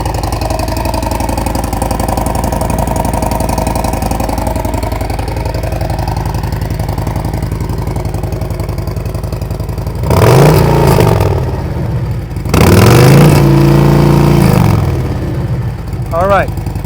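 Motorcycle fitted with a Tab Performance Redline exhaust idling with a steady deep burble, then revved twice in strong bursts that rise and fall, loud and close, while people talk over it.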